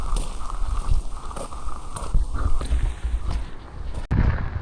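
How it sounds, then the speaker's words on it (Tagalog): Strong wind buffets the microphone on Suomenlinna island in Finland during a storm with rain, a loud rushing roar with gusty surges and rumbling low thumps throughout. "Grabing hangin."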